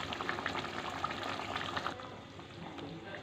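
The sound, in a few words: prawn malai curry gravy boiling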